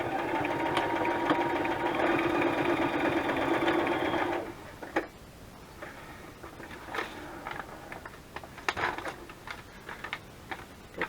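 A sewing machine zigzag stitching runs steadily for about four seconds with a dense mechanical whir, then stops, leaving faint clicks and small handling noises.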